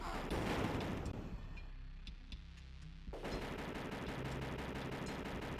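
Turret gunfire in The Terminator on Sega CD, dense rapid bursts of shots with a brief lull before the firing resumes in a steady rattling stream, mixed in with game audio.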